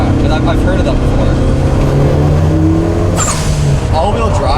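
Loud engine of a 550 hp E85-fuelled Evo 9 all-wheel-drive car pulling hard under acceleration, with a steady droning note and a sharp release hiss partway through, while people talk over it inside the cabin.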